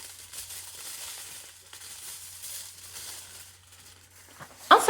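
Aluminium foil is crumpled to mimic a crackling fire: a soft, patchy crinkle throughout, ending in a sharper, louder burst of crackles.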